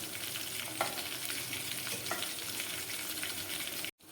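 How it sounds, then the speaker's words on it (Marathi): Cumin seeds fry in vegetable oil with a dense, constant sizzle and crackle that continues alone until an abrupt cut just before the end. "आणि जिरे याला मस्त भाजी तेलामध्ये फ्राय करून घ्यायचं आहे"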